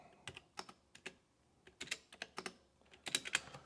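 Loud, crisp clacks from a mechanical keyboard come in uneven clusters of keystrokes with short pauses between, recorded up close in a quiet room.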